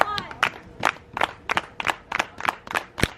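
Wedding guests clap in unison, about ten sharp, evenly spaced claps that ring out close and loud with no talking between them.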